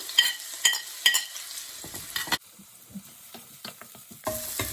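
Garlic, chilli and spring onions sizzling in hot oil in a pan, with a steady frying hiss broken by the scrape and clatter of stirring, close up and alone.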